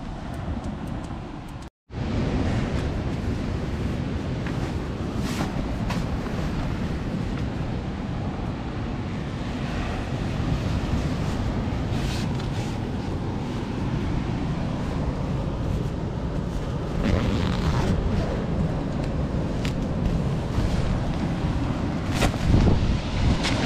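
Strong coastal wind at Aksaz, Çanakkale, on the Marmara, roars steadily and buffets the microphone for the whole stretch, a dense rushing noise with no voices.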